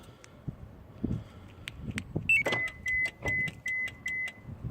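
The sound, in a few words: car door locks clicking in response to Compustar remote start system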